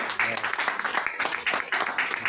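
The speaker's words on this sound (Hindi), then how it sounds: "उसके लिए ताली बजाइए" An audience at a business meeting breaks into applause, a fairly steady patter of many hands clapping at moderate volume, with no speech over it.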